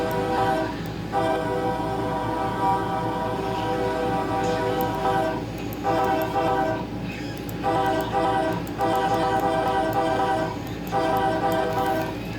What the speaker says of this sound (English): Next unit is a BNSF AC4400 CW. And yeah, I kind of like this horn.